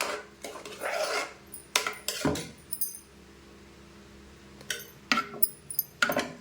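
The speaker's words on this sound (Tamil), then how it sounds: "இப்போ இதை நல்லா கலக்கிக்கலாம்." A spoon stirs wheat payasam with strained jaggery syrup in a pot, giving sharp clinks and scrapes against the metal in irregular bursts, with a quiet pause in the middle.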